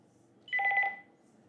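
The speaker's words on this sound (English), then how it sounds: "There goes the phone." A telephone rings once in a short burst of rapid electronic trills, clear and moderately loud against a quiet background.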